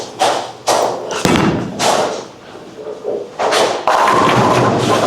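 A Hammer Anger Solid bowling ball thrown down a lane at a Kegel bowling centre, with heavy thuds and rolling rumble mixed with clattering impacts in a reverberant alley.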